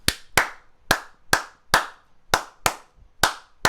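Nine sharp, close hand claps ring out alone in a steady, slightly uneven rhythm, each with a short room echo.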